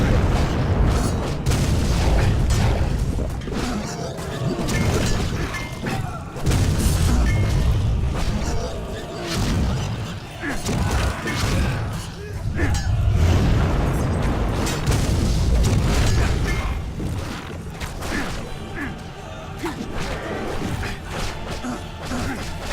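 Heavy rolling explosions and crashing booms from a Lord of the Rings PS2 game, loud and almost continuous, swelling in bursts with short dips between.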